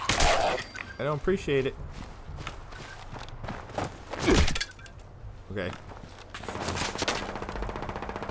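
Gunfire aimed at the player in Fallout 76: scattered sharp shots and impacts mixed with footsteps, close and fairly loud, while a person speaks between the bursts.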